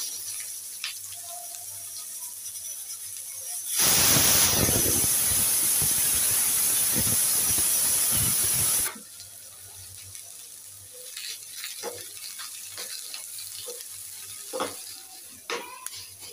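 Sliced onions dropped into hot oil for chicken curry burst into a loud, dense sizzle for about five seconds, then settle into a softer crackle with occasional stirring taps and clinks.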